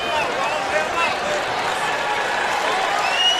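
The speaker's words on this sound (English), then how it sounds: "Fans applauding Kevin Seraphin for not backing down." Basketball fans in an arena applaud player Kevin Seraphin after a fight with Marcus Camby, a steady wash of clapping and crowd noise heard under a commentator's talk.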